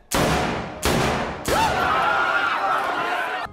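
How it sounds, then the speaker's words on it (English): Three heavy gunshots from a JCVD action scene, spaced out, each with a sharp attack and a long ringing decay, with a whining tone under the last one. "gunshots"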